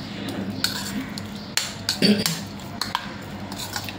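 A spoon scrapes and clinks against a bowl while a cucumber salad is stirred, soft irregular taps and swishes over low background noise.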